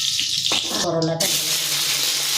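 Bitter gourd frying in a pan, a steady broadband hiss and sizzle that runs throughout, with a faint voice briefly over it.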